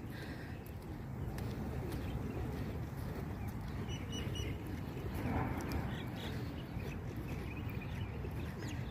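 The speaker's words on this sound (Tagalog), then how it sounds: "ang saya ng mga ibon" A flock of birds chatters and quacks outdoors, a dense, busy chorus over a steady wash of background noise.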